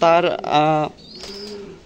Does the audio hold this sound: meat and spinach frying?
no